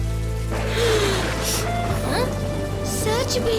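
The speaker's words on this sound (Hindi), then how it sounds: "आप रो रहे हैं और देखिए यहाँ बारिश हो रही है" Steady cartoon rain falls throughout a festival scene, a continuous wash of drops beneath a character speaking, with music tones sounding alongside.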